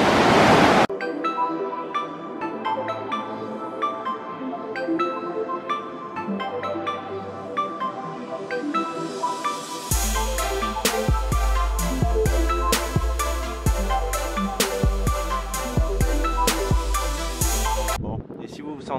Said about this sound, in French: Et ça fait des sacrées chutes d'eau quand même.